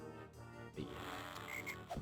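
Frog croaks from a cartoonish Zelda-style video game, heard as a few short game sound effects over a steady musical backdrop, moderately quiet, with no talking.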